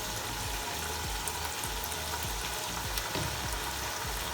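Chicken chow mein fries in a pan with a dense, steady sizzle and crackle, a few soft stirring knocks underneath, close and unbroken with no speech.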